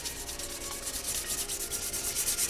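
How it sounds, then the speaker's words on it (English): Sandpaper on a block rubbing over motorcycle paintwork during a Bimota restoration, a close, steady scratchy rasp in quick back-and-forth strokes, with no talking. "do the first part with a block, then at the end of the block, fold the sandpaper back, and do the last little bit right up to the tape"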